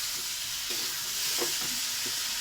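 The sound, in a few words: stirring ginger paste in a pan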